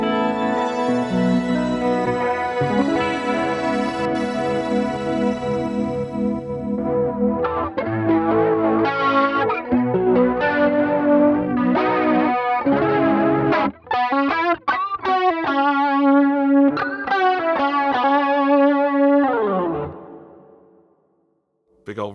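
An electric guitar runs through a Boss ME-90 multi-effects unit, with distorted chords and then single-note lines. Long reverb tails decay slowly and fade to near silence at the end.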